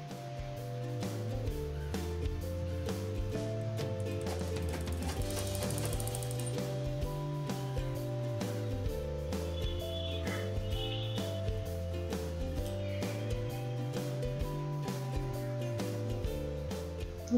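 A sewing machine stitches a blouse neck piece with a steady, rapid mechanical rattle and hum that keeps a consistent rhythm throughout, close by and unbroken by speech.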